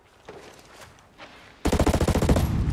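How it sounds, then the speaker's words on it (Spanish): In the video game Ghost Recon Breakpoint, a rapid burst of automatic gunfire, about a dozen loud shots in quick succession, follows a quieter stretch of low background rumble. "Oigo disparo."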